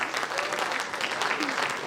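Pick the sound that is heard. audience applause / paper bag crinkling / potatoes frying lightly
audience applause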